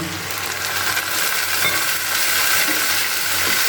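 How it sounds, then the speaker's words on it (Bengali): Ginger, garlic and onion paste fries in a pan while being stirred, giving a steady, close, continuous sizzle and crackle for the whole stretch, with no voices. "দিয়ে আবার কিছুক্ষণ ভালো করে একটু নাড়াচাড়া করে নিচ্ছি এটাকে"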